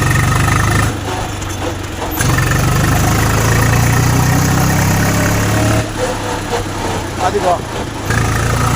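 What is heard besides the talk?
tractor differential housing noise in top gear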